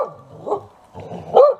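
A dog gives a few short barks and yips, one near the start and a louder, sharper one near the end, with quieter rustling between; no one talks.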